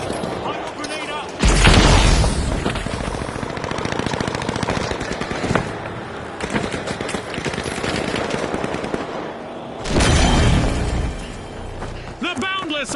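A grenade blast in a combat game, bursting in loud and broad twice amid continuous heavy gunfire and crackling debris, with voices talking underneath.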